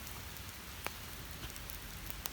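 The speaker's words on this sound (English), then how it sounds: "Starting to rain out now again." Rain falls outdoors in woods near a burning fire, a steady broadband hiss with a couple of sharp drop or crackle ticks, close and constant with no talking.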